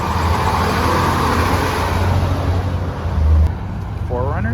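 A 4Runner hauling dirt bikes rolls by on a busy Moab street, its steady engine and tyre rumble blending with surrounding traffic noise.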